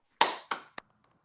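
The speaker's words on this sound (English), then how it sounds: "If you want to join me in a round of applause." Two sharp bursts of clapping from online meeting participants, then a single faint tap, short and isolated with near silence after.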